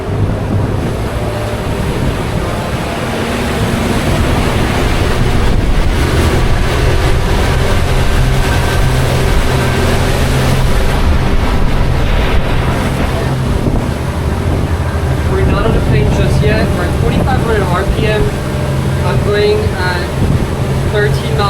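Twin outboard engines on a Foxsea Bulldog 43 boat drone loudly, accelerating onto the plane beneath heavy wind buffeting and splashing water, the roar holding steady and building slightly, with a voice talking over it at times.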